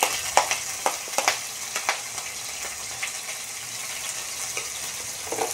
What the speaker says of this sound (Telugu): ఫ్రై చేసుకుందాం గోల్డెన్ బ్రౌన్ వచ్చే వరకు